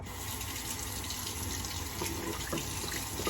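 Water runs steadily from a tap into a bathroom sink during shaving, a continuous close splashing rush with faint knocks near the end and no talk.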